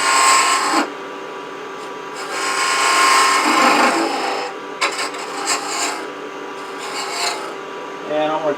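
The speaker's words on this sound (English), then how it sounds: "Then I'm going to take a beading and parting tool, part down there." A beading and parting tool cuts into spinning wood on a lathe, making a steady rasping scrape with brief pauses and changes in pressure. It is close and loud, with no talk.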